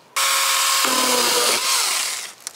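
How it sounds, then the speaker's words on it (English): A Saker mini electric chainsaw cuts a small palm tree, its motor starting abruptly into a loud, steady whine that drops in pitch as the chain bites into the wood, then winds down. "it had absolutely no problem trimming up this little palm tree."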